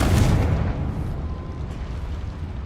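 A Confringo spell explosion in Hogwarts Legacy gives a loud, deep fiery boom at the start that rumbles and slowly fades over a couple of seconds.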